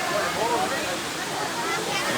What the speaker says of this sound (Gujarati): વોટરફોલ કે આપણે ગુજરાતીમાં કહીએ તો કામ કહેવાય આને ધોધ આને ધોધ કહેવાય ગુજરાતીમાં